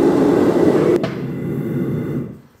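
A hammer lands one firm blow on a forge weld at the scarf of a 3/4-inch fullered roll-toe horseshoe bar, a single sharp metallic strike over steady forge roar that fades out afterward.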